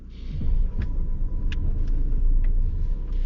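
Petrol engine of a Skoda Octavia mild-hybrid running on after starting, a steady low rumble with faint ticks and brief clicks, close and continuous throughout.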